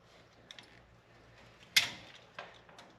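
A spring pin is pulled from a 1st-gen Toyota Tacoma front brake caliper, with faint small metallic ticks followed by one sharp click and a brief scrape, close up and otherwise quiet.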